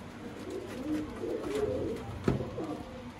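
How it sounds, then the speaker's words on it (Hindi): Soft, low cooing from a crossbred pair of pigeons, an Imamdeen male and an Indian Surkhi female, repeats through the clip over faint background noise, with a brief louder knock near the end. "प्योर इमामदीन कबूतर और प्योर इंडियन सुरखी मादा दोस्तों, क्रॉस ब्रीड जोड़ा है"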